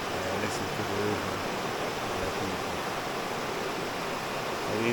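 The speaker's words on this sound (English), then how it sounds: "I listen to the river." A Jamaican river flows in a constant, full rushing wash of water that stays steady and fairly loud for several seconds, with no one speaking.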